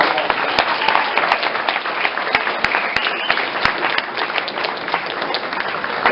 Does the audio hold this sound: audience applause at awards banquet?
yes